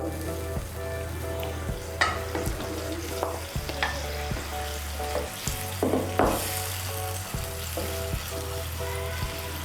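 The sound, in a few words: fried eggs being added and stirred in a frying pan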